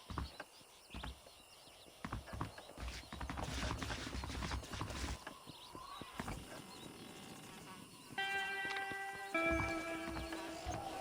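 Horse hooves clip-clop in the Red Dead Redemption video game, uneven thuds and knocks among mechanical clicks and rattles, with a tonal musical sting and whinny-like sounds near the end.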